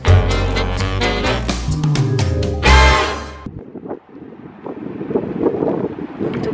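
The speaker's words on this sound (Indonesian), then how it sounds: "Anginnya agak-agak gede." Strong wind gusting outdoors in snowy Moscow, a steady broad roaring rush close to the microphone, with buffeting noise and no talking.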